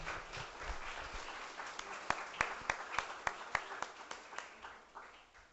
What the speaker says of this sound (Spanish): Brindemos un cálido aplauso al maestro Bojorquez.